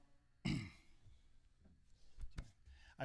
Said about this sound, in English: That was my first throat clear of the day, and it was a teeny tiny little one.